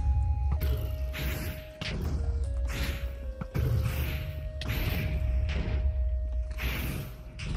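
The Wither boss in Minecraft smashes through blocks, sending repeated loud crashing thuds and whacks in quick bursts over a steady humming drone.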